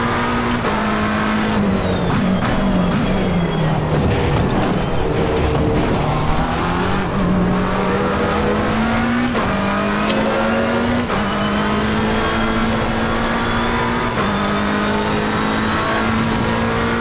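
A race car engine roars continuously in the Assetto Corsa Competizione racing game at the Zolder circuit, revving up and down through repeated gear changes with tire squeal as control briefly slips, loud and close for about seventeen seconds.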